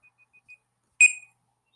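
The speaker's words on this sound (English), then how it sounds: "that was just my timer if you heard that beep" A timer gives a few faint short beeps, then one loud sharp beep that rings briefly and fades into silence.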